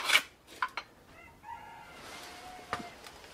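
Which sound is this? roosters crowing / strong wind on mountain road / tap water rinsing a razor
roosters crowing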